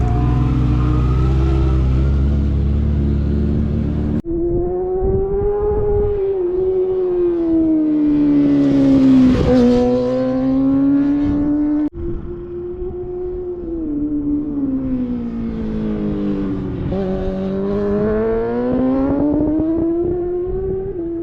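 A 636 motorcycle engine screams along a race track, rising and falling through the revs with a brief break where it shifts. The sound is loud, continuous and close, with no talking.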